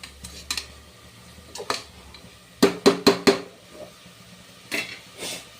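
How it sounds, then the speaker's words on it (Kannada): Metal spoon scraping and clanking against a pan while vegetables for palav are stirred, with irregular clatters that bunch into a run of sharper knocks midway and a few softer scrapes near the end. "ಹಸಿ ಸ್ಮೆಲ್ ಹೋಗಲಿ ಅಂತ ಒಂದು ಟೂ ಮಿನಿಟ್ಸು ನಾನು ಕೈ ಆಡ್ತೀನಿ"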